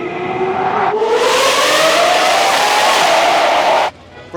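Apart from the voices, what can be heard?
car exhaust revving through 3rd Street tunnel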